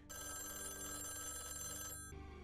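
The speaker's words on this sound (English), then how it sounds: "Answer the fucking phone!" A telephone rings continuously and loudly in a TV episode, a steady electronic ring that cuts off abruptly near the end.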